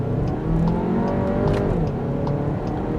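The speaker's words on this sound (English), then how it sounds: "Listen to the engine." A 2020 Volkswagen Tiguan Allspace engine revving hard under kick-down in sport mode with manual control, a loud, rising, sustained drone heard from inside the car.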